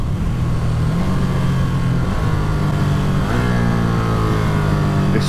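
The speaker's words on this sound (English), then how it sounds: "Let me show you how good this quick shifter blipper is." Ducati Streetfighter V2 motorcycle engine running loud and close, a steady throbbing drone whose pitch steps up and down at gear shifts made with the quickshifter and auto-blipper.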